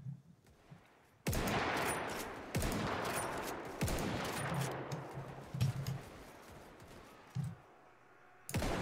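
Musket gunfire in the Mount & Blade: Warband video game, a series of loud sharp shots, each ringing out with a long fading echo, some closely spaced and others a second or two apart.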